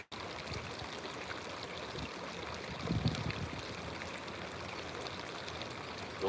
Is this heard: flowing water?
yes